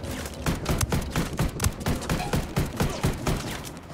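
Rapid, continuous shotgun gunfire in the video game Ghost Recon Wildlands, a dense run of loud close blasts with heavy booming thumps.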